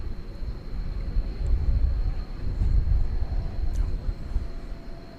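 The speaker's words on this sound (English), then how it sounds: "We got I think a 757 going out to Chicago Rockford" Boeing 757 departing DFW Airport, a steady distant low engine rumble that stays fairly constant throughout, with a faint high whine above it.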